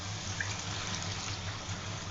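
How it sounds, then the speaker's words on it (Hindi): Water poured into a pan of arbi (taro) leaves as they cook, a steady soft splashing and trickling that runs unbroken and moderately close, with no voices. "आधा कप या 1 कप आप पानी डाल दें, जितना आपको शोरबा चाहिए।"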